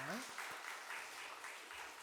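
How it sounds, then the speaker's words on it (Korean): Brief congregation applause at a Korean Sunday worship service, quiet, fairly distant clapping with a voice speaking over it. "박수 한번 보내드릴까요?"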